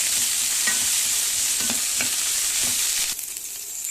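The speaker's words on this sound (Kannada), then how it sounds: "ಎತ್ತಿಟ್ಟುಕೊಂಡ ಬೆಂಡೆಕಾಯಿಯನ್ನು ಬಾಣಲೆಗೆ ಹಾಕಿ ಚೆನ್ನಾಗಿ ಫ್ರೈ ಮಾಡಿಕೊಳ್ಳಿ" Okra frying in a pan after mustard seeds have spluttered, a continuous loud sizzle with soft stirring scrapes and a few knocks. It eases off slightly near the end.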